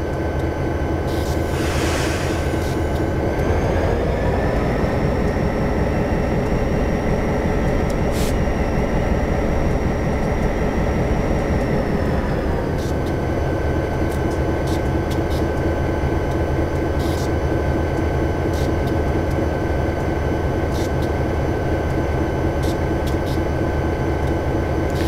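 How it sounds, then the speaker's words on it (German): A train in the video game Train Simulator 2014 accelerates under a steady, loud mechanical drone, its engine tone rising and shifting for several seconds before settling into a constant rolling hum. "Der Zug gibt schon von alleine Gas"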